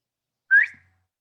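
A person imitates a straight-line whistle heard in Kentucky woods at night: one short, clear, slightly rising whistle, close and alone in silence.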